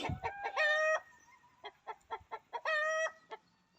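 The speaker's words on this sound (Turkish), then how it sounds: "arada tavuğumuz ötüyor" A chicken clucks in short bursts, then lets out two brief, strained crowing calls, close and clear with no voices.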